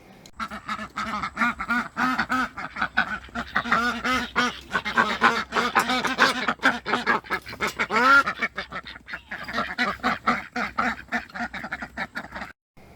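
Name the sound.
female Pekin ducks quacking with drake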